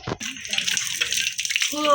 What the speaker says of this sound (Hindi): भाई साहब मजे आ गए इस नल के पानी से मुँह धोने से